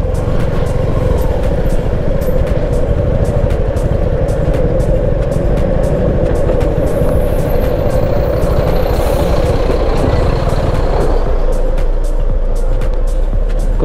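Traffic is jammed on a road through Bandipur forest on the ride to Ooty. A constant loud rumble of idling and creeping trucks, buses and cars runs throughout, with a faint air-brake hiss partway through.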